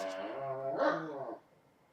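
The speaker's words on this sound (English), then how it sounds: "That is my dogs playing." Dogs playing together indoors, giving a loud, drawn-out bark-growl that swells and then cuts off, leaving faint room noise.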